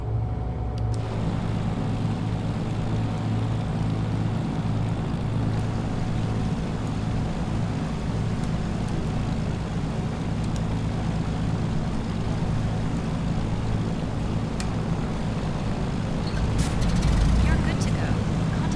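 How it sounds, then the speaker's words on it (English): Aircraft engine priming and starting in a flight simulator, a steady loud droning hum with constant tonal layers throughout and a few faint clicks near the end. "I'm just going to prime the next engine."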